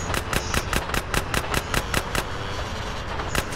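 Rapid automatic gunfire from a shootout in the video game GTA San Andreas, loud regular bursts of shots rattling steadily for most of the stretch, then a brief pause and a few more shots at the end.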